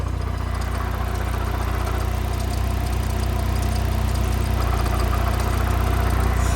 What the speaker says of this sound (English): Got the pink car warming up just to move it out of the way.